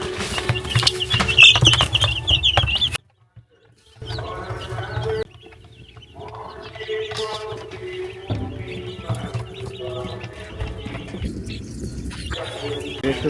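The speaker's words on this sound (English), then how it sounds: "We gotta go see the baby chicks and all the little animals that they got." Baby chicks and chickens at a farm animal display in winter, chirping and clucking in a steady busy chorus, loudest at the start, with a short lull before the birdsong picks back up and continues throughout.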